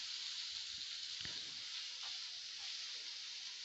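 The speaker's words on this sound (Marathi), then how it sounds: "आणि यामध्ये उकडलेला बटाटा घालायचा आहे। छान परतून घ्यायचं आहे याला।" Boiled potatoes sautéing in a pan for a fasting-style potato dish, a low, steady sizzle running throughout with a few soft stirring scrapes.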